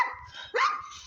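A dog outdoors in a forest gives a single sharp bark after a soft whine, close and fairly loud, with no talking.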